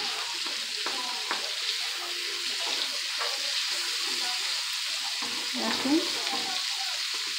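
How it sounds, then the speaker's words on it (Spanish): Longaniza sausage frying in a pan for lentil soup, with a constant close hiss and crackle throughout. A voice speaks briefly over it. "Ahora vamos a echar la longaniza a que se fríe"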